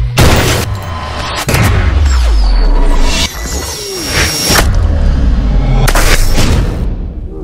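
Loud booming gunshots ring out in a cartoon superhero fight, several heavy blasts spaced a second or two apart over a dense, rumbling background.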